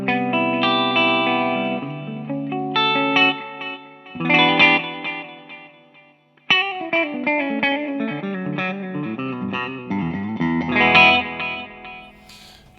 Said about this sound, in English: We're mono, so let's add a mono delay.